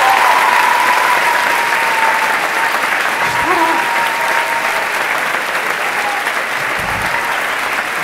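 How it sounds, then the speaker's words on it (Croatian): Sustained audience applause fills a hall to welcome friar Ante Bešlić, a dense, even clapping roar lasting several seconds at steady strength, with faint crowd murmur beneath. "Draga publiko, jednim velikim pljeskom pozdravite Frantu Bešlića."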